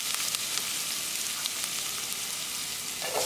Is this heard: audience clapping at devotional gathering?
no